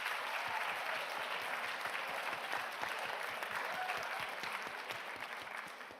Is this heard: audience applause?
yes